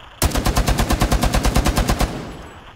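Rapid automatic gunfire in Rainbow Six Siege, one loud close burst of about twenty evenly spaced shots lasting nearly two seconds, followed by a fading tail.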